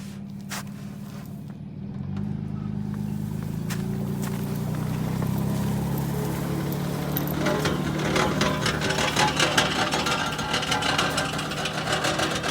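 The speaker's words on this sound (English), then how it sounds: "that's the exhaust rattling, by the way" A totaled and rebuilt Pontiac GTO climbs a hill, its engine droning low and steady while the exhaust gives a rattling buzz that grows stronger toward the end.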